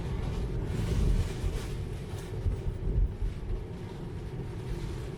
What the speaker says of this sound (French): Il y a un vent de dingue, une pluie pourrie.